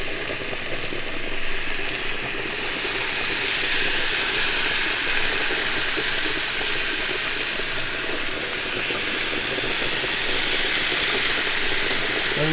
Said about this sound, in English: You see here a little sizzle when you put the chicken on.